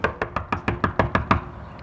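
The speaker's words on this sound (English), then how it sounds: "I'm going to knock on the door," Eight or nine quick knocks on a door come in an even, brisk rhythm, close and fairly loud, with no one talking.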